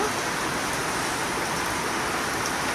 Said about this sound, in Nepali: अहिले एकदम ठुलो पानी परिरहेको छ।